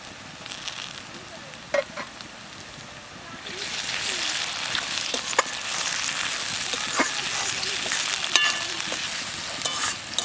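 Steady sizzling of onions and tomatoes frying in a pan, with occasional stirring clinks and scrapes, continuing throughout at moderate volume.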